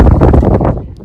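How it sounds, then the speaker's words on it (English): Strong wind buffets the microphone in a loud, rumbling low roar near the North and South Korea border, with no clear voice in the brief gust. "It's so windy."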